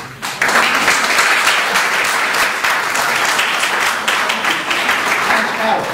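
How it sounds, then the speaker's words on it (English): Audience applause at a talk on the Ethiopia Commodity Exchange, dense steady clapping from a crowd that swells in quickly after a brief pause and holds loud for several seconds. "Can you all give a round of applause?"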